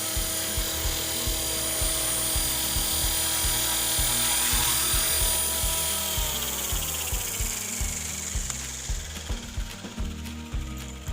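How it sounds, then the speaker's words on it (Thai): A radio-controlled model helicopter whirs steadily with a fast rhythmic rotor chop and high mechanical whine, close and loud, then the whine descends and the chop slows as the throttle is cut near the end. "ผมจะเข้าไปจับเฮลิคอปเตอร์ก็ตัดคันเร่งก่อนนะครับผม"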